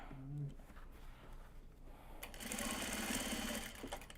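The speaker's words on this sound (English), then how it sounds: "let's get this stitched." Sewing machine stitching a Japanese fabric box bag, a close steady motor whir with rapid needle chatter starting midway, alongside soft voice sounds and breaths.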